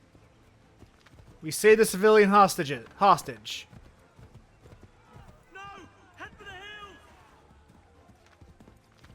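Rhythmic clip-clop of horse hooves in Assassin's Creed 3 runs faintly beneath several bursts of excited, game-like talk from different voices.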